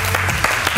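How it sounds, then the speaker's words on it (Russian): Applause for the participants at a photographers-versus-models contest, a short dense burst of many hands clapping steadily at close range, with a faint voice underneath. "Аплодисменты ребятам"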